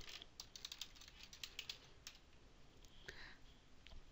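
Computer keyboard typing a command, quick irregular clicks in a short burst and then a few more keystrokes, faint and close, with no talking.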